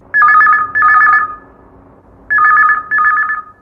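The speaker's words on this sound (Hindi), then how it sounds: "तो चलो जानथन कौन संगी के पहली फोन आथे।" During a radio phone-in request show, a telephone rings loudly in two clear double-ring cycles with a pause between them. No one speaks over the ringing.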